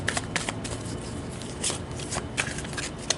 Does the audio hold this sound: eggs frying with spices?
no